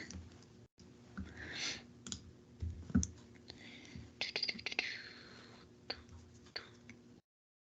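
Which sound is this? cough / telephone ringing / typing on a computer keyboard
typing on a computer keyboard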